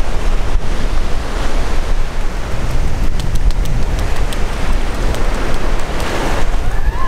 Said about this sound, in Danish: det blæser, mand